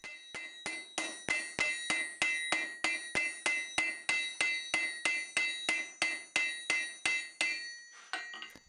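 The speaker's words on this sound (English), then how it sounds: "hammer it down a little bit, switch over to the ball peen, and then form the head" A ball peen hammer forms the head of a hot forged nail held in a header, making a fast, steady series of about twenty-five bright ringing metallic strikes, close and loud, with a few quicker, lighter taps at the end.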